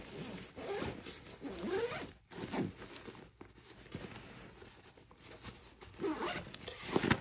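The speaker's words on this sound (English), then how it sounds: "So then we zip it up." A zipper pulled closed around a thick compression packing cube, with repeated close scratchy zipping strokes and short pauses between pulls over about seven seconds.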